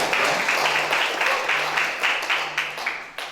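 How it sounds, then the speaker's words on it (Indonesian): Audience applause at a university kick-off event for a cooperative community-service program in Bogor: dense, steady clapping from a crowd across the whole clip, fairly loud and close, with a faint voice underneath. "tepuk tangan dulu untuk UIKA."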